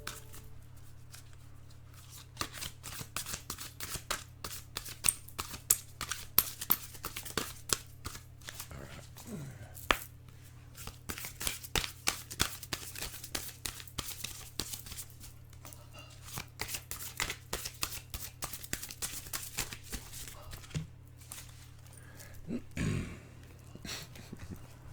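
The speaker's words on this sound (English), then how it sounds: "I'm just going to take out a cosmic guidance card" Cosmic guidance cards being shuffled by hand, a soft run of quick papery riffles and flicks with small pauses, close and fairly quiet over a steady low hum.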